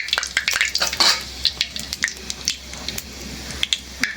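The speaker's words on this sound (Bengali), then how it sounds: "মরিচ কড়া করে ভাজা নিতে হয়," Dried red chillies frying crisp in a pan, a soft sizzle punctuated by sharp clinks and scrapes of a spoon stirring against metal, close up with no talking.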